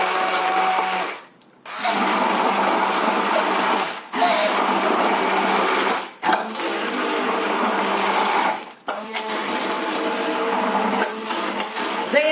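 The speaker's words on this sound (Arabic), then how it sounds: "وننزل بالهاند بلندر عليها كلها." Hand blender whirring steadily through a garlic sauce with salt, a loud, close motor drone running in long stretches broken by three short pauses.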